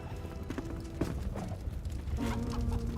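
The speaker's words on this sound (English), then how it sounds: "Oh, and we have chickens up there." Chickens on a homestead in the video game Enshrouded cluck in short, moderately loud bursts, with a few clicky knocking sounds in between and no talking.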